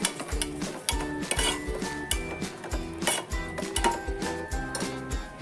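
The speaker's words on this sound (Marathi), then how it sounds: "चांगलं मिक्स करून घ्यायचं" Moong dal batter being stirred and mixed in a bowl for Goan moog gathi, heard as fast, rhythmic clinks and knocks of a spoon against the bowl. The clatter is close and continuous, with no talking.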